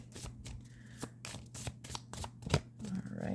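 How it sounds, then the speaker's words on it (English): A deck of astrology cards is shuffled and handled up close, with quick soft riffling and flicking bursts and light taps repeating in an uneven rhythm over a quiet low hum. "I'm going to grab some astrology cards here."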